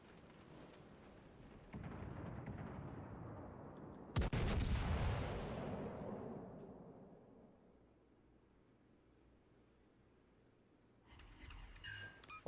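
The main guns of the battleship King George fire in the naval video game World of Warships Legends, a deep booming salvo followed by a heavier blast whose rumble rolls away slowly, with a brief clatter near the end.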